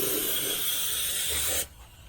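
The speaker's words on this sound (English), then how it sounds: "So the underbody gets painted black." Black paint sprayed onto a car underbody: a loud, steady broadband hiss from the spray gun running continuously, then cutting off abruptly near the end, leaving a faint low compressor hum.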